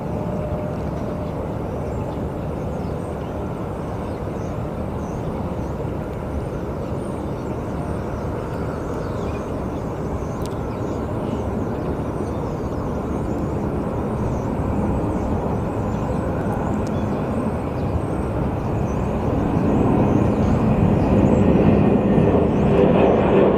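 An airplane takes off at Phoenix Sky Harbor airport, its broad jet engine roar heard from a distance and building steadily louder toward the end.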